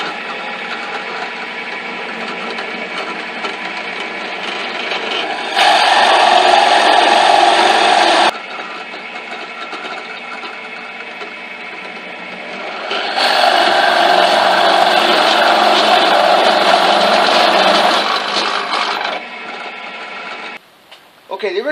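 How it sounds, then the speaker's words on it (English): Power drill boring a 1-inch hole through a 2x4, two sustained loud whirring bursts separated by quieter mechanical running, ending with a short clatter. "now I'm going to drill a 1-inch hole through this 2x4"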